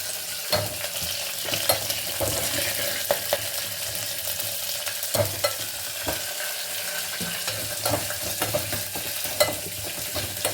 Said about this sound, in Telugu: వేసి కొంచెం ఫ్రై చేస్తున్నాను.